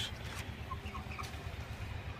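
Broiler chickens on a poultry farm cluck in soft, scattered calls over a steady low rumbling background, with no one talking.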